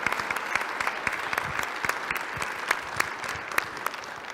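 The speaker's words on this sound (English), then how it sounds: "the college deserve a round of applause for that" Audience at a symposium on restoring trust applauds steadily, a dense wash of many hands clapping from start to finish with no talk over it.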